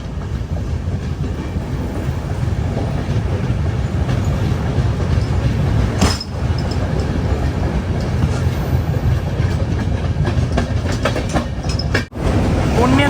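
The Jan Shatabdi Express from Varanasi to Patna runs through Kashi station without stopping, heard from inside as a loud, continuous rumble and clatter of wagons. Two brief sharp breaks cut through the noise.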